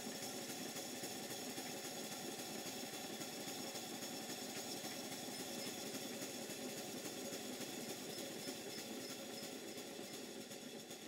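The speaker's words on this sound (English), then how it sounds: "the engine is now on its side, so I can give it a run and watch what happens underneath" A 5 inch gauge GWR 14XX model steam locomotive runs while laid on its side with its side tanks removed, giving a constant close mechanical whirr and rattle that never lets up.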